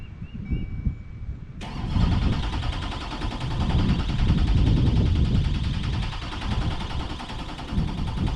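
A dump truck engine cranks over and catches after a short quiet stretch, then settles into a loud, steady, rumbling run close by.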